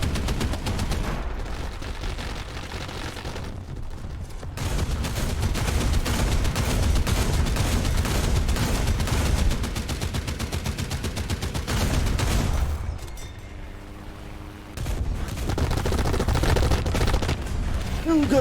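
Sustained gunfire in the tank combat game War Thunder, loud and dense bursts of shooting running nearly the whole time, with a brief lull near the end before firing resumes.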